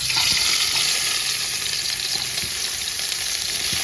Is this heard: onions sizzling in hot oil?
yes